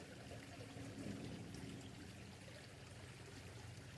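River water flows steadily nearby, a soft continuous rushing and trickling wash with no talk over it.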